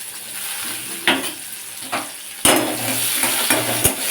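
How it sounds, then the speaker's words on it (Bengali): Small chopped capsicum and chilli fry in a hot pan for a paneer dish, a bright steady sizzle broken by several sharp spatula strokes and scrapes against the metal. "লঙ্কাটা ভাজার সাথে সাথেই আমি দিয়ে দিলাম ক্যাপসিকাম"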